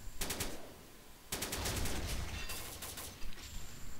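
Submachine guns rattle in the online shooter Combat Arms, with several rapid bursts of close automatic fire separated by brief pauses and no talking.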